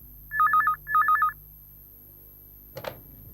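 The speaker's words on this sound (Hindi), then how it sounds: "कोई कौशल जी का फोन है" A telephone rings twice in short warbling bursts, followed by a brief clatter as it is picked up.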